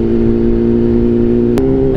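A BMW S1000R sport motorcycle idling and revving up close, a loud, steady engine drone with a strong low hum and a brief sharp click near the end.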